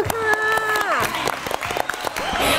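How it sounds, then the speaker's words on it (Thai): Studio audience applause on a Thai television variety show, continuous clapping and crowd noise filling the moment, with a voice and music-like tones mixed over the top. "โอ้ยเก่งมากปรบมือค่ะ"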